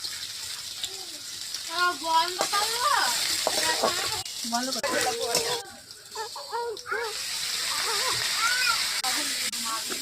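Oil frying in a pan before garlic and chili go in, a steady bright sizzle running the whole time beneath a voice that talks over most of it.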